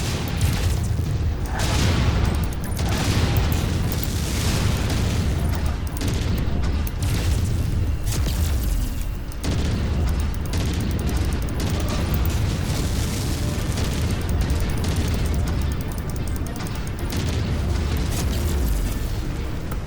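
Explosions of a destroyed target in the MechWarrior 5: Mercenaries video game, a continuous loud roaring rumble with repeated booming bursts and crackling debris that persists without letup.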